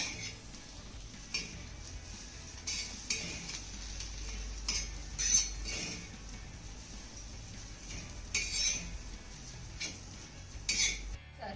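A spoon scraping and clinking against a pan as besan bhurji with onion is stirred, in repeated uneven strokes over a faint low hum.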